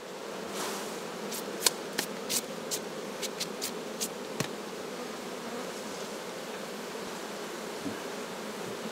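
Buckfast honey bees buzzing around an open hive on a mild day during honey harvest, a steady moderate drone with occasional sharp knocks and clicks of frames or tools.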